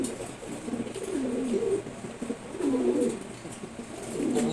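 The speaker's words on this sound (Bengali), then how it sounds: "রেড চেকার কবুতর জোড়া" Red checker pigeons, a pair kept in a cage with one bird sitting in a clay pot, coo in low rolling phrases repeated about three times, close and fairly steady with faint background hiss.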